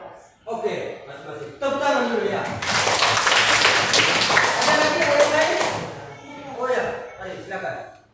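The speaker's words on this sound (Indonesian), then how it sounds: "Tepuk tangan dulu ya." A classroom of students claps together for a few seconds, the clapping swelling in the middle, with talking before and after it.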